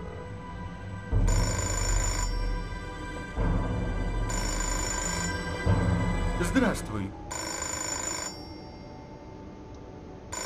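A telephone rings in the video game Fahrenheit, three long electronic ring bursts separated by pauses, loud and near over a low ambient hum, with a voice speaking briefly between rings.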